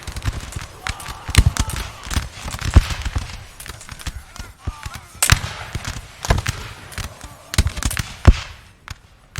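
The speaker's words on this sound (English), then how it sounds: "The Austrians return fire, and there's artillery going off everywhere right now" Musket volleys and artillery fire in a Napoleon Total War battle of Raszyn, 1809, between Austrian and Polish forces: sharp, scattered cracks and booms, some near and loud, others distant, popping irregularly throughout.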